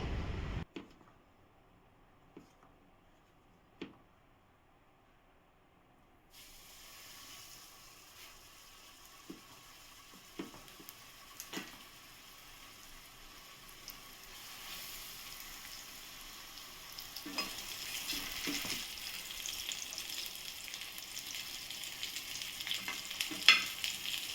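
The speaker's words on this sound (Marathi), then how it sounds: "आता ना मच्छी फ्राय करते" Fish frying in a pan in a village kitchen in Konkan, a soft hiss and sizzle that starts faint and builds steadily louder, with occasional light clinks and taps over it.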